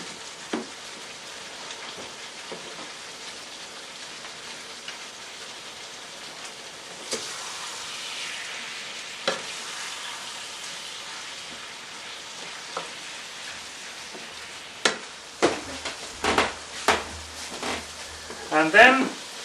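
Onions and potatoes fry in a pan with a steady crackling sizzle throughout, joined later by louder bursts of stirring and scraping near the end.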